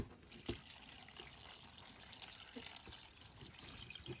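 Water pours steadily into a cooking pot for a Thai boiled beef dish, a continuous close splashing trickle with a few small knocks and clinks.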